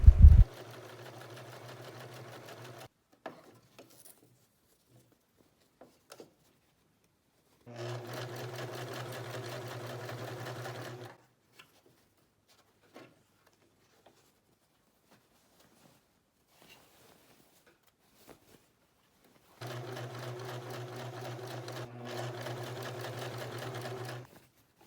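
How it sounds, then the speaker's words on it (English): A sewing machine stitches the elastic casing of a ruched crop top in three short bursts of steady, close mechanical whirring, separated by long quiet pauses with faint handling clicks. "I'm only going to sew down a few inches at a time"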